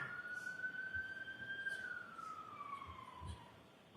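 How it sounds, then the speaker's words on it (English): From outside a courtroom, a faint emergency siren wails in one long rising and falling sweep as it passes by, heard through the walls over a low, steady room hum. "I just wanted the siren to go by"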